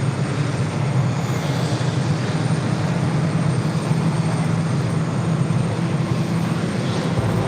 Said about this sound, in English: That was Korean Air Flight 81 coming in from Seoul at A380.